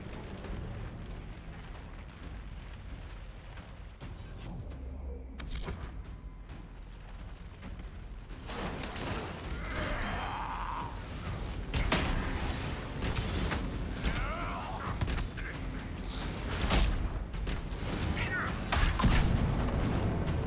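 Fire bombs exploding in Dragon Age: Inquisition burst out in loud whooshing blasts. A quieter rumbling stretch comes first, and then repeated fiery eruptions swell and crackle over the rest.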